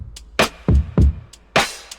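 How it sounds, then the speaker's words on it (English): A simple pop drum loop built in FL Studio for an R&B/pop track plays alone, with punchy deep kicks, sharp snare hits and light ticking hi-hats in a clean, steady pattern. "It's a very simple drum loop."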